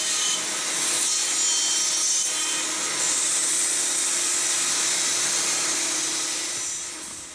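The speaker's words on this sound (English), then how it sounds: "Run the router as you did before and assemble the draw." A router cutting dovetail joints in 12mm wooden drawer sides on a dovetail jig gives a steady, continuous rasping whine of cutter on timber. It runs loud and close for about seven seconds, then tapers off at the end.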